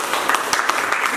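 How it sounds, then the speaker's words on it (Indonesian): Classroom students applaud a student group after its presentation: a brief, close burst of mixed hand claps. "Tepuk tangan untuk kelompok 2."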